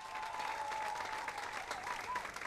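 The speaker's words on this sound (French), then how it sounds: "je vous demande des applaudissements pour tous ceux et celles qui monteront sur ce podium aujourd'hui" An audience applauds the people who will step onto the podium, steady dense clapping that holds for the whole stretch at a moderate distance, with a thin sustained tone running underneath.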